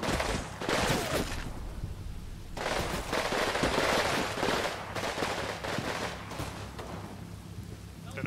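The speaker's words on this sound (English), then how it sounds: "Did I hear a machine gun?" Machine gun fire from the World War II combat game Combat Mission, set in Pomerania in 1945: dense rattling bursts with short breaks between them, loud and continuous over the whole stretch, with no talking.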